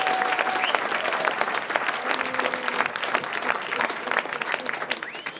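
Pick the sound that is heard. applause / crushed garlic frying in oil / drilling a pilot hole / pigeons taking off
applause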